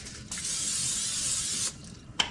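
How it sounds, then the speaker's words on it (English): A can of olive oil cooking spray hisses into a pan in a kitchen, one close, steady burst lasting over a second, then a brief second puff. "Now, we've got a little olive oil cooking spray."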